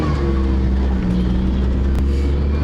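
High-mileage Daihatsu Move Turbo kei car engine, around 251,000 km, holding a steady loud droning hum close by without climbing much in pitch.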